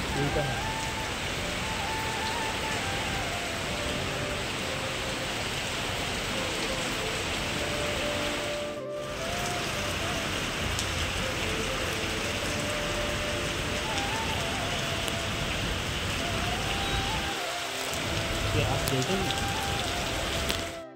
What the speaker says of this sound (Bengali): তারপর তোমাদেরকে বৃষ্টির আওয়াজটা একবার শোনাই।